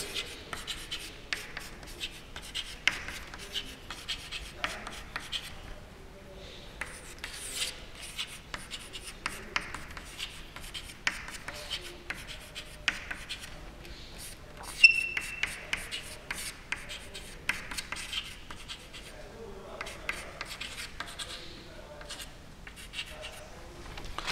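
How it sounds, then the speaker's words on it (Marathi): Chalk or marker writing out a rule on a board, heard as close, continuous scratchy strokes and taps in an irregular rhythm, with only brief pauses between bursts of writing and no speech. "इथं नियम जरा लिहितो"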